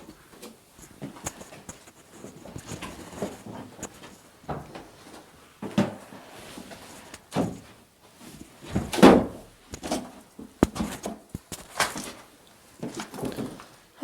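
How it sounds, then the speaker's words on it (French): An old door is worked open inside an abandoned miner's house, with scattered knocks, scrapes and creaks over a dim, echoey background; one louder thud stands out midway. "Il y a une porte."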